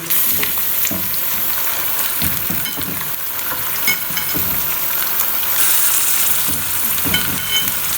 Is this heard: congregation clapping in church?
no